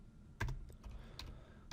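Fingers type briefly on a computer keyboard, a quick handful of soft close key clicks in an otherwise quiet room, no talking.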